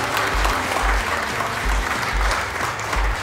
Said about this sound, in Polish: A my gromkimi oklaskami uczcimy małżeństwo.